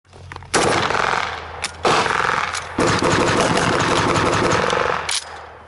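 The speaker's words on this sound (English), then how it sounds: "I fired one round at it before my gun jammed" Loud, close gunfire at a WWII re-enactment fills the clip in dense, rapid crackling bursts lasting several seconds, with short gaps between them and no talk.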